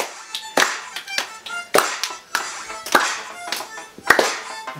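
Hands clapping at a family dance with a grandma and young kids: a loose, uneven rhythm of sharp claps, roughly one to two per second, close and fairly loud with music-like tones in between.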